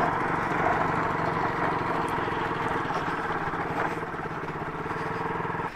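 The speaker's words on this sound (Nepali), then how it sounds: "साह्रै खेटे खेटे गरिरहेछ मेरो बाइक फेरि के भयो लास्टै हल्ला गरिरहेछ" A motorcycle rides from Dhading Besi toward Kathmandu over a rough, muddy road-construction stretch and rattles noisily. Its loud engine and clatter drone steadily and close for the whole stretch, with no pauses.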